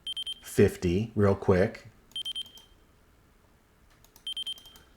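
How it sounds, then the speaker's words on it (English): A Radiomaster TX16 RC transmitter gives short high electronic warning beeps, first alone, then in a quick triple burst, and again near the end, with someone talking briefly between them. "we're getting a beep, beep, beep, and we got one single audible warning"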